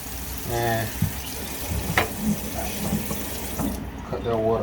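Tap water runs steadily into a 10-gallon crayfish tank, a continuous splashing rush with a few knocks and clicks, and a voice talking over it at times.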